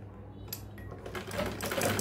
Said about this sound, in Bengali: তো আমি এখন নিচ থেকে এখানে একটু সেলাই দিয়ে নিব।